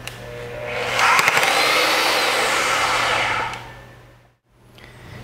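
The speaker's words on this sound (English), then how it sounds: "set the direction lever to R and press the trigger switch, the machine will first back out about 15 degrees and stop." An AGP DB32 digital tube bending machine reverses its bend by about 15 degrees: a loud, close motor whir rises, holds steady for a couple of seconds, then cuts off to near silence before a faint hum returns.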